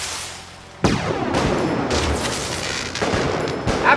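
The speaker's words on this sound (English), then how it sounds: "We've got more fireworks. Shoot them off." Fireworks in Fallout 4 go off in sharp, loud bursts. Several cracks and booms follow one another over a few seconds, with crackling tails between them.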